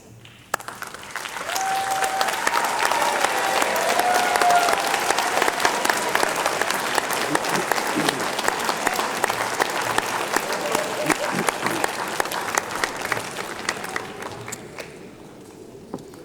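Graduates at an MIT graduation ceremony applaud their families and friends, a dense, sustained crowd applause that swells within a second or two, holds steady for about thirteen seconds and then fades toward the end.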